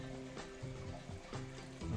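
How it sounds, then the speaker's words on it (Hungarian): Water circulating through an indoor aquaponics unit, pumped into a grow bed every 12 minutes, drained by a bell siphon and flowing back into the fish tank; a steady close trickle and splash that runs continuously and swells toward the end. "Így megy körbe a víz."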